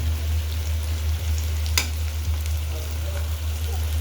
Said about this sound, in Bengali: এখানে আমি এখন তেল পরিমাণ মতো দিয়ে দিব। তো এখানে আমি তেজপাতা দিয়ে দিলাম